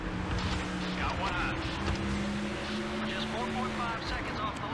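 Race cars circling Bristol in a NASCAR-style racing game, engines droning with shifting tones under steady track noise while someone talks over them.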